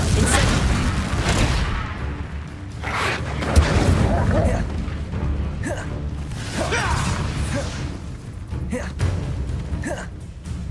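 Fiery blasting spell explosions in the Hogwarts Legacy video game, heavy booms and whooshing bursts set within a dense, continuous game soundscape, with character voices shouting during the combat.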